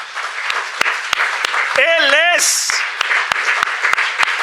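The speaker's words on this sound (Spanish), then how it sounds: "dale un fuerte aplauso" Applause from a church congregation, a burst of clapping that runs throughout under a preacher's loud voice, with sharp individual claps standing out.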